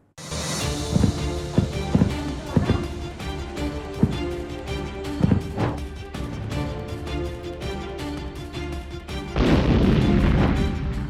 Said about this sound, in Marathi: पाकचे ड्रोन हवेतच फुटत होते